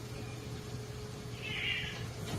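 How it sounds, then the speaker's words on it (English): A pet cat lets out a brief, strained scream partway through, faint and high over a steady low background hum. "this is the one you'll hear my cat screaming."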